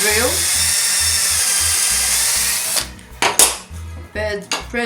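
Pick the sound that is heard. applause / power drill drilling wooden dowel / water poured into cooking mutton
power drill drilling wooden dowel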